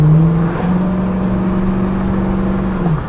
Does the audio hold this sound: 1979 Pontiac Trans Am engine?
yes